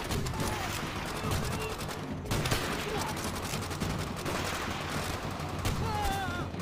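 Rapid, sustained gunfire in Call of Duty World at War, dense crackling volleys that run almost continuously with louder shots at intervals, sniper rifle fire among them amid a chaotic battlefield mix.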